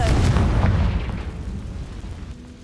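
A Confringo fire spell detonates in Hogwarts Legacy, a loud deep booming blast at the start that rolls away into a fading rumble over a couple of seconds.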